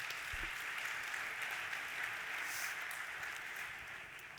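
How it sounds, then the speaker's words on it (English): Audience at a live panel event clapping for two panelists, a steady, even wash of applause throughout, moderately distant and without talk. "Please give up another round of applause for these amazing two panelists."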